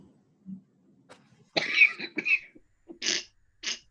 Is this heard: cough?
yes